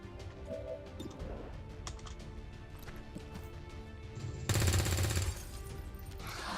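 Gunfire in XCOM 2: War of the Chosen, a few scattered shots over a busy layered game soundscape, then a loud, dense burst of rapid fire lasting about a second near the end.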